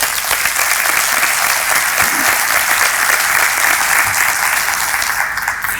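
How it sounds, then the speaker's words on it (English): Sustained applause from an audience at a chamber of commerce breakfast, dense and loud, holding steady for about six seconds before thinning slightly at the end. "let's give a big round of applause for the renewals"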